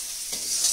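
A mother stirring and frying food in a pan at home, a brief soft sizzle with light scraping, no voices.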